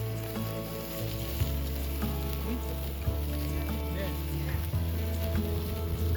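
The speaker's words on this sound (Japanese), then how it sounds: "この宴をさらに贅沢にするのは、村で採れた獅子肉の焼肉。" Wild boar meat from the village sizzles steadily as it grills over charcoal, a continuous crackling hiss heard beneath a voice.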